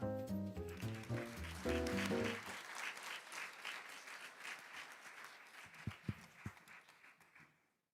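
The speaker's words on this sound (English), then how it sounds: "Please join me in giving him a big round of applause." A conference audience at the HCCH Asia Pacific Week in Seoul bursts into sustained applause, starting over a short musical flourish and tapering off to a few scattered final claps.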